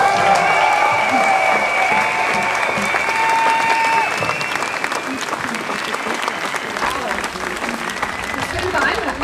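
Sustained audience applause fills a climate demonstration against coal power, a dense, steady clapping crowd that stays loud throughout and eases slightly toward the end, with some voices mixed in.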